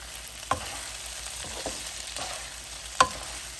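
Sago upma with tomato pieces is stirred in a pan, giving a soft steady sizzle with two sharp utensil clinks against the metal, no voices.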